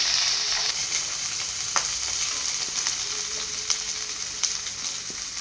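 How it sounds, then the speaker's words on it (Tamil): Sliced onions and green chilies sauté in a pan with whole garam masala spices for black kavuni rice biryani, giving a steady close sizzle with scattered stirring taps and scrapes, and no talking. "the onions with green chili, 2 பச்சை மிளகாய் போட்டுக்கோங்க. நல்லா வதக்கிக்கோங்க."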